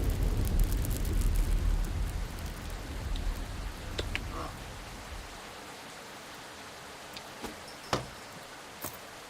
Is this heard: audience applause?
no